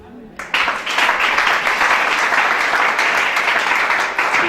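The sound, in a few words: congregation applauding in church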